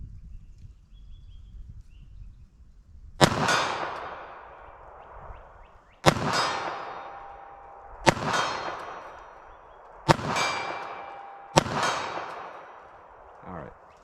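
Five sharp .380 ACP pistol shots loaded with Hornady American Gunner ammunition, fired outdoors at a 40-yard target with irregular gaps between them, each crack trailing off in a brief ringing decay.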